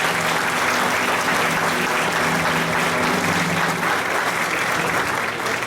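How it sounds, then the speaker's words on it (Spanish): An audience at a huayno music show gives a dense, sustained round of applause that holds steady and loud throughout, with no talk over it. "Un aplauso para Andrés."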